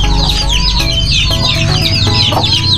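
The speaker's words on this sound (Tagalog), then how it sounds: "Dito po tayo sa ating mga alagang mga manok." Pet chickens cluck busily in the morning, including a hen with chicks, close and loud, with overlapping high calls and cackles in a dense, continuous flock chatter.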